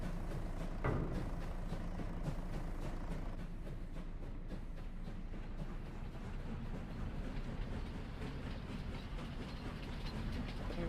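A steam-era train on the Kinlaig Valley map in Farming Simulator 25 hauls grain, giving a steady, continuous rumble and rhythmic clatter of rolling wagons throughout, with no talk.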